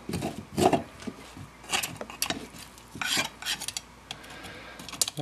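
A bone guitar nut blank is scraped clean with a tool, giving a close series of irregular rasping scrapes and small clicks in short strokes, moderately loud, with no talk.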